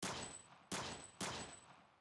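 Three sharp shots from a P99 pistol in Minecraft's Ferullo's Guns Mod, each a loud crack with a short decaying tail and a thin metallic ring, spaced about half a second apart.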